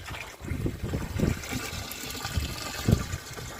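Bael fruit juice is poured into a large batch of water mixed with jaggery for a homemade bio-enzyme, making a gurgling, splashing pour with irregular surges.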